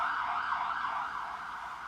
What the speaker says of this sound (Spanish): que Dios acompañe a esa persona en ambulancia